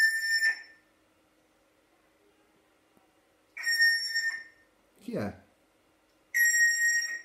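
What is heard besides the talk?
pet grey parrot whistling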